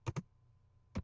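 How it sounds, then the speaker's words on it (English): Two quick pairs of close keystrokes on a computer keyboard, separated by a short silent gap, clicked out as a fastboot command is entered for an ASUS TF300 tablet. "Now we're just going to type fastboot"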